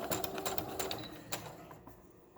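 A sewing machine stitches a paper tag with quick, even, fairly faint mechanical tapping that slows and fades toward the end.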